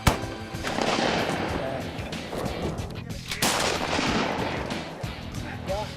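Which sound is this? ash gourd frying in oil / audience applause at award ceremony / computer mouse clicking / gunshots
gunshots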